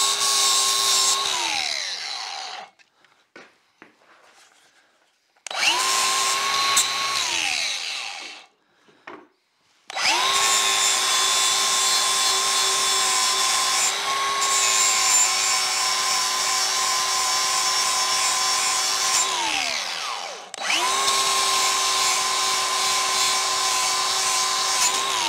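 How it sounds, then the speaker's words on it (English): An angle grinder fitted with a flat disc bevels the damaged skeg of a 1975 Mercury 20 hp outboard motor: loud, steady whining runs in several long passes, each winding down as the disc lifts off, with brief quiet gaps between. "I'm going to take my flat disc and I'm going to put a bevel on it, bring her to kind of a point."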